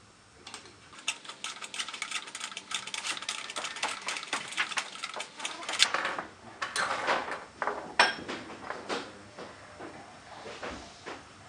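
Metal spanners, sizes 10, 13 and 17, clink and click against an air fitting being unscrewed on an SSV reversing actuator, a busy run of sharp, close metallic taps and scrapes with no talking.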